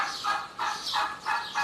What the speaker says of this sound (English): my turkeys are going a bit nuts this morning